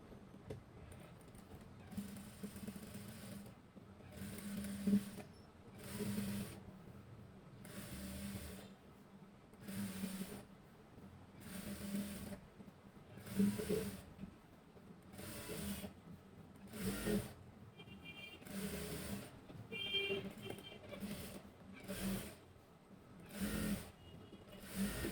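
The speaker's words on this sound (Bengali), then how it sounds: "পাশ দিয়ে আর একটা সেলাই দিতে হবে।" Sewing machine stitching the side seam of a six-panel petticoat: rapid rhythmic needle clatter in repeated short runs with brief pauses between them, close up and steady.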